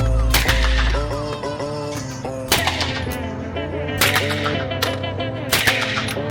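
Gunshots from an M4 rifle at a shooting range: four sharp loud single cracks spaced about a second and a half apart, with a steady music-like tonal background between shots and no talking.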